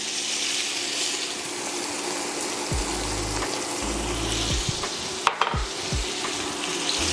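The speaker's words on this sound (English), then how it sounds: "Now we just gonna saute these down and render these down until they become golden brown." Beef short ribs sauté in a hot pan, giving a loud, continuous close-up sizzle with low bubbling underneath and a few brief knocks near the end.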